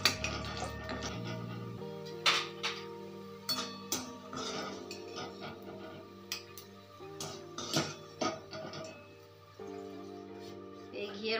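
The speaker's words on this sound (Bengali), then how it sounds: "এরপরে কাজু কিশমিশটাকে আমি এই ঘিয়ে একটু নেড়ে নেব।" Cashews and raisins are stirred in ghee in a pan for chicken biryani, with a metal spoon clinking and scraping against the pan in irregular taps over steady background music.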